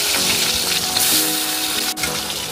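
Vegetables fry over high heat in a kadai with nigella seeds and green chillies, a loud, close, continuous sizzle with a sharp click near the end.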